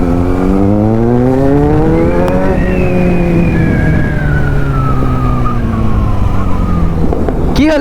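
A Yamaha MT-15 155 cc and a Kawasaki Z900 race side by side, engines revving loudly with rising and falling pitch as gears shift, the note climbing steadily and staying close and loud throughout.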